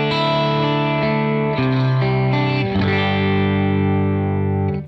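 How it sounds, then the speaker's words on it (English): Distorted electric guitar chords ring through a real Matchless valve amp, several strummed changes sustaining thickly, loud and close with no talking. "let's compare it against a real amp by pushing this button here."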